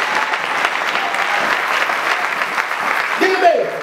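A church congregation applauds and cheers for the Lord Jesus, a steady broadband wash of clapping and crowd noise running throughout, with a brief voice rising near the end.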